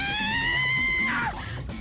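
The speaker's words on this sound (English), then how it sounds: "Another scream. It was close." A scream in the video game Raging Loop, a long sustained tonal wail that rises slightly and then breaks off sharply partway through, loud and close over a low background ambience.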